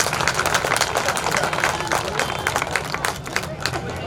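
A crowd clapping at a Love Kush Jayanti 2023 celebration in Ashoknagar, steady dense applause filling the whole stretch with a murmur of voices and someone talking over it.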